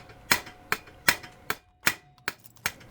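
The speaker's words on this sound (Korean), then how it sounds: "스크류 탭을 이제 망치로 이렇게 박아주는 거거든요" A hammer drives a 3.3 mm screw tap into a broken engine-transmission mount bolt, giving seven sharp metallic strikes in an uneven rhythm. The strikes are close and stand alone.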